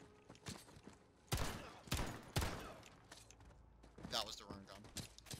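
Gunfire in the Call of Duty Modern Warfare campaign mission First Response: several loud, separate shots ring out over a few seconds, each with a brief tail, amid quieter game sounds.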